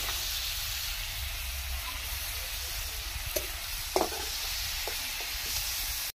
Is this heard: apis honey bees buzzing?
no